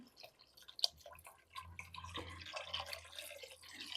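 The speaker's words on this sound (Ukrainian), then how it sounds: "Підсмажилось овочі наші, додаємо водичку, я додам 2 літри." Water poured into a pot of fried vegetables, a soft steady splashing and trickling that builds after the first moment, close by with a faint low hum beneath and no talk.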